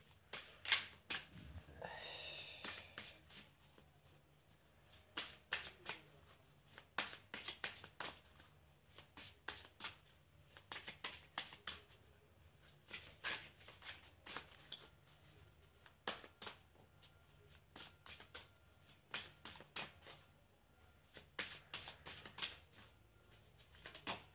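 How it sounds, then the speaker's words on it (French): A deck of fairy oracle cards is shuffled by hand, giving a run of quick, crisp riffling bursts in uneven clusters with short pauses between them, close and fairly soft, with no talking. "on va prendre une carte de l'oracle des fées"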